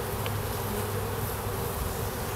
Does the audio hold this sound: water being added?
no